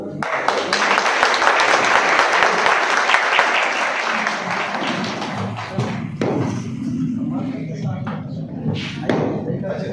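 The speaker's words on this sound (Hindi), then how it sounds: "माननीय अपर पुलिस अधीक्षक का जोरदार तालियों से स्वागत किया गया" Audience applause fills a World Human Rights Day gathering in Sonbhadra, welcoming an additional superintendent of police; dense steady clapping for about six seconds, then thinning into lighter scattered claps with a voice over it.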